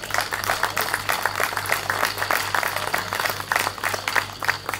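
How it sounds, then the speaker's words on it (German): Applause at the opening of the Wave venue in Stolzenau, a dense, steady crowd of clapping hands sustained throughout at close range. "Das ist zwischendurch, glaube ich, mal einfach ein Applaus wert."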